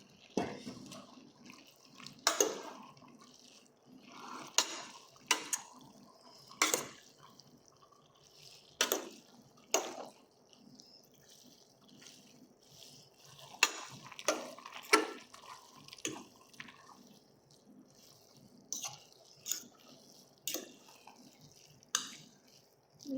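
Drained pasta being mixed with vegetables, heard as soft, sporadic wet clicks and scrapes spread irregularly across a quiet background.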